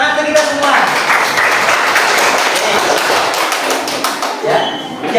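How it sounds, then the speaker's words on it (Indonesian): A classroom of students claps together for about five seconds, a dense, steady patter of many hands close by that thins slightly near the end. "Tepuk tangan untuk kita semua."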